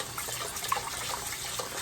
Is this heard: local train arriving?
no